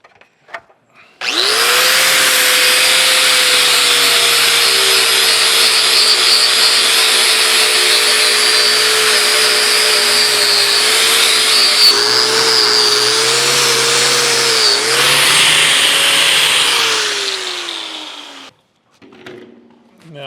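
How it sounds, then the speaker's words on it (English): An angle grinder fitted with a wire wheel scours rust from a cast iron cane mill, a loud, close, sustained high whine and rasp lasting most of the stretch before spinning down. "let's get in here with an angle grinder and a wire wheel"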